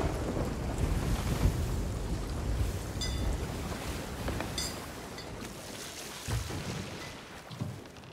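Seawater rushing into a holed ship's hull at sea in the pirate game Sea of Thieves, a steady washing, sloshing rumble mixed with waves and wind noise, fairly loud and continuous throughout with no talking.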